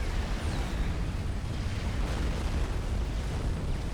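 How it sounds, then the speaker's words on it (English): Steady, dense explosions rumble and roar without pause from laser fire in Supreme Commander: Forged Alliance, a thick continuous barrage of blasts with no clear gaps between them. "On to watching things explode."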